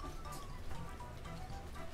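Steady rain in Minecraft, a dense even patter that holds at one level for the whole stretch with no talk over it.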